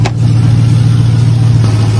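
A Ram TRX pickup's engine rumbles loud and close, holding a steady deep growl throughout with no voices over it.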